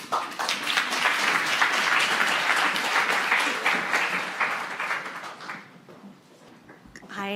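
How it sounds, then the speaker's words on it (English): Applause from an evening audience at a sustainable development livestream event, dense and steady for about five seconds, then thinning out as a voice begins near the end. "Big round of applause, please"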